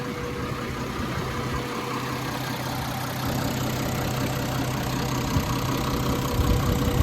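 A Massey Ferguson MF 1250 tractor engine idles steadily with a low, even rumble and a faint knock, close by and alone, growing slightly louder toward the end.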